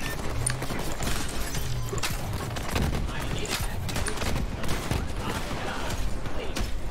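Enemy gunfire in Borderlands 3 comes as a dense, continuous barrage of overlapping shots and impacts, loud and busy throughout with no clear breaks.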